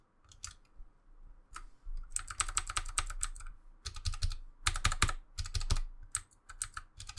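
Clacky typing on a mechanical keyboard with blue switches and keycaps fitted, close and fairly loud, in quick uneven bursts separated by short pauses.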